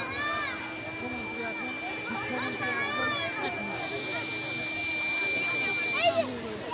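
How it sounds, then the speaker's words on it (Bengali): Anti-sleep glasses for drivers sound a steady, high electronic alarm tone for about six seconds at a crowded district science fair, with many voices chattering around it before it cuts off. "কেউ যদি এক্ষেত্রে 3 সেকেন্ড চোখের পাতা বন্ধ রাখে তাহলে তৎক্ষণাৎ অ্যালার্ম বেজে উঠবে।"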